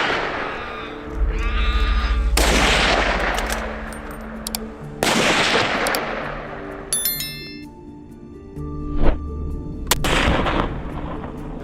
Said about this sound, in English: The gunfire echoed through the area, sending the boar herd into a frantic scatter.